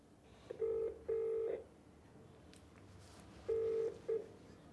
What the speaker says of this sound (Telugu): ఒకసారి ఫోన్ చేద్దాం.